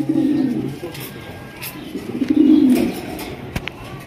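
Pigeons at a pigeon farm give low, throaty coos in two rolling bursts, close and fairly loud. Faint background chatter and a sharp click sit underneath.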